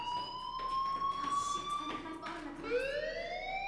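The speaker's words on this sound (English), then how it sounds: "Hey, do you hear that fire alarm?" A fire alarm in a video game sounds as a sustained electronic wail that drops and then sweeps upward again, mid-loud and steady, with faint game noise beneath and no clear speech.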